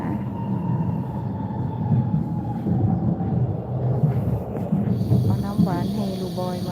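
Inside a train carriage travelling between stations: a steady low rumble and rattling hum fills the space throughout, with some faint squeaks and a brief rhythmic clatter near the end, and no clear talk.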